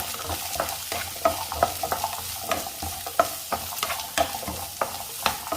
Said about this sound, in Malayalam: അതിലേക്ക് അരിഞ്ഞു വെച്ചിരിക്കുന്ന ക്യാരറ്റും കൂടെ ചേർക്കാം. ഇത് ഈ എണ്ണയിൽ തന്നെ ഒന്ന് ചെറുതായിട്ട് വാടി വരണം.